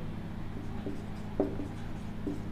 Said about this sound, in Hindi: अब देखिए इसमें लिखेंगे